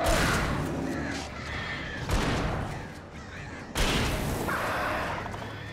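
Attacking birds in the Alan Wake video game caw harshly in repeated bursts, with dense, noisy flapping and a few loud thumping hits running under it, close and loud.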